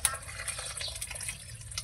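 A little water is poured into a cooking pot, making a close, gurgling trickle with small splashes and drips throughout. There is no talking.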